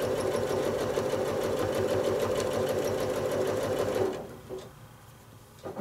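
A sewing machine running steadily for free motion quilting travel stitching, a loud continuous mechanical whir with a fine rapid stitching rhythm that stops abruptly near the end, leaving a quiet room.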